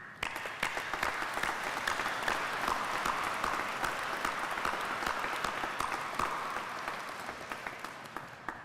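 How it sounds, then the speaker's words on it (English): Sustained audience applause at a Fleet Readiness Center Southwest change of command ceremony, honoring the military artisans in white; dense, steady clapping from a large crowd that holds evenly for nearly nine seconds before thinning slightly at the end. "I'd just like to stop for a second and clap and say thank you"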